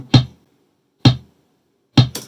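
Sample-accurate drum trigger audio rendered in Massey DRT: three sharp, identical percussive hits about a second apart, loud and dry with quick decays, the last followed closely by a brighter extra hit.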